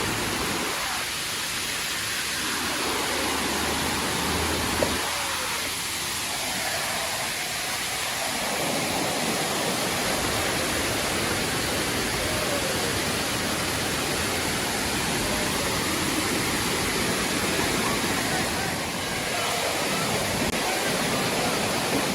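Dunn's River Falls in Jamaica roars as a loud, continuous rush of falling water, broad and steady throughout, with no voices standing out.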